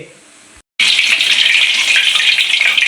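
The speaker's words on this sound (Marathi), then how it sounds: "आता बापडे तळायचे" Bafle, Marathi village dumplings, drop into hot oil and burst into a loud, dense, hissing sizzle after a brief quiet moment, the bubbling frying continuing steadily close up.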